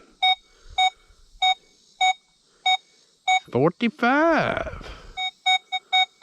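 A metal detector sweeping over a silver dime with foil beneath it gives a regular series of sharp, bright beeps. A voice briefly breaks in midway before the beeping resumes in quicker pairs.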